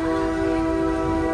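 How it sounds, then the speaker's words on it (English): Diesel locomotive number 8408, a 600-horsepower engine on the Wilmington and Western Railroad, sounds a steady, loud horn tone over a rumbling engine throughout. "Today we are taking you aboard engine number 8408, which is a diesel locomotive that produces 600 horsepower"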